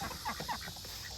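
A few soft, brief clucks come from chickens and ducks being herded to bed for the night, faint and close in a quiet setting.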